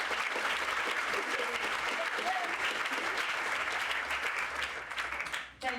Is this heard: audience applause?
yes